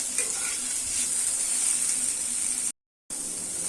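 Masala fries in hot oil for a spicy Maharashtrian chicken rassa, giving a continuous bright sizzle and crackle with a brief silent break near the end.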